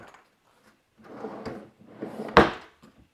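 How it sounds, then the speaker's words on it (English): Workbench drawers running on drawer slides: a few soft rolling slides in and out, ending in a sharp close with a knock, heard up close with no talking. "These drawer slides work pretty well."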